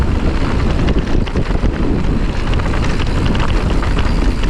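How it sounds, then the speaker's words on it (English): Strong, steady wind buffets the microphone during a coastal bike ride out of a canyon at Montana de Oro, a loud continuous roar and rumble with gusty fluctuations throughout. "you got some windy spots when you cut out of the canyon for a minute"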